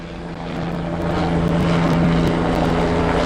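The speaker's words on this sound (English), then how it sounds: "That's King County helicopter. It's flying really low right now." A King County helicopter flies low overhead, its engine and rotor drone swelling steadily louder into a constant, heavy hum with no voices.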